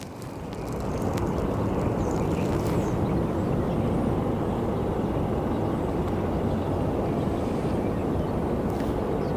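A Southwest airliner at Sky Harbor Airport gives off a steady, broadband roar that swells within the first second and holds constant throughout, with no voices over it.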